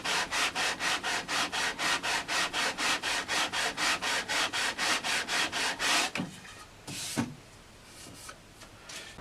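Steady back-and-forth sanding on a vintage Sakai/Audition electric guitar fretboard while radiusing it, about two dozen even rasping strokes close up, then it stops and a few light knocks follow.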